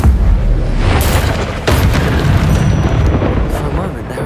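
An Incendio fire spell blasts in Hogwarts Legacy: a loud, roaring whoosh over a deep, continuous rumble, with a sharp flare partway through and the sound holding strong to the end.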